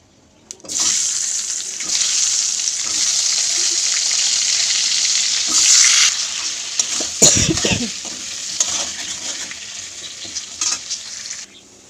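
Potatoes fry with turmeric and salt in hot oil, a close, steady sizzle with occasional stirring clatter and a brief louder scrape midway, fading out at the close.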